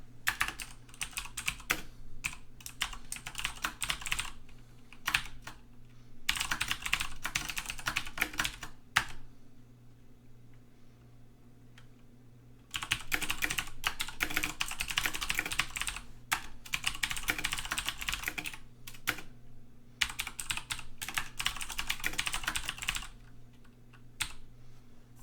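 Rapid typing on a computer keyboard while coding, close and clear, coming in long dense bursts separated by short quiet pauses, with no talking.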